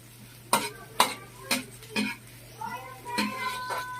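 Fish paste (bagoong) sautéing in a pan, with regular stirring scrapes about every half second over a steady low sizzle, close and moderately loud.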